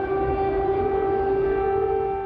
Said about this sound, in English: residents took shelter in subway stations as air raid sirens wailed onto the streets above them